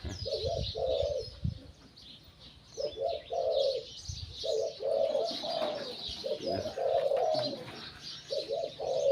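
A male spotted dove coos repeatedly in clear, close phrases, with other birds chirping in the background throughout.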